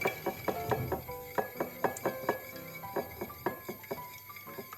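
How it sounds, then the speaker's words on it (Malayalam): An egg with a little salt is beaten with an egg beater in a plate, making a quick, irregular run of close metallic clinks and taps against the dish. "ഒരു മുട്ട പൊട്ടിച്ചൊഴിച്ച് അല്പം ഉപ്പും ഇട്ട് ഒരു എഗ് ബീറ്റർ ഉപയോഗിച്ച് നമുക്ക് നല്ലതുപോലെ അടിച്ച്"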